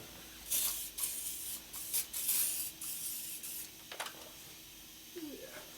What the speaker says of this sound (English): Put a little CRC on our tire.